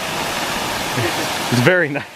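A waterfall on the West Coast Trail gives a steady, broad rushing roar through most of the clip. Near the end a person speaks briefly over it.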